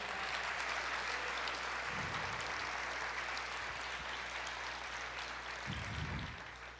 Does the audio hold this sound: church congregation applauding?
yes